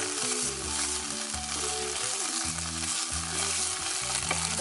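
Garlic sizzles and fries in a pan for a Thai curry cooked inside a van, a loud, dense, continuous crackle with occasional stirring and no speech.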